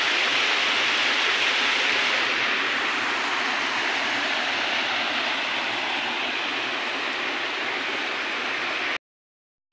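Passerano waterfall roars as a steady, dense wash of falling water heard from close by at its base, constant and moderately loud for about nine seconds before cutting to silence.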